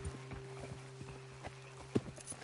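Horse hooves clip-clop steadily and close in Red Dead Redemption 2, the rhythmic hoofbeats running under a faint low hum, with one sharper thump near the end.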